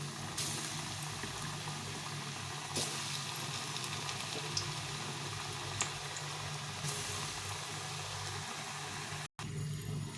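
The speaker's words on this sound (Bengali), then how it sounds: "তেলটা গরম হয়ে গেছে এখন এগুলো ভেজে নেব একটু লাল লাল করে ভেজে নিতে হবে" Chana dal fritters frying in hot oil, a continuous dense sizzle and bubbling that stays loud and close throughout, with a brief cut near the end.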